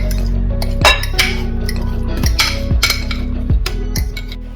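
A whisk clinks steadily against the sides of a bowl as mashed banana is beaten with melted butter and sugar for banana bread. The close, rhythmic metallic taps repeat at a quick, regular pace.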